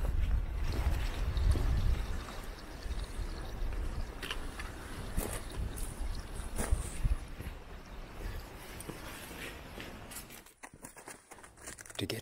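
Footsteps crunching over stones while walking up the bed of Rocky Creek in Mt Barney National Park, with flowing water trickling steadily underneath, fairly close and continuous.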